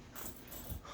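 An excited dog gives a brief, faint whimpering snort up close, a short nasal whine with a few small scuffling sounds and no voices.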